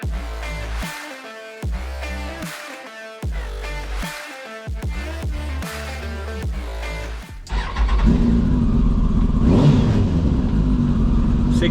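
A kart hull fitted with a car engine, from a Volkswagen Golf GTI build, revs hard in repeated loud bursts with brief drops between, then settles into a sustained, roaring high rev at close range.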